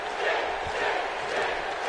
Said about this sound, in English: The crowd now chanting for Sting.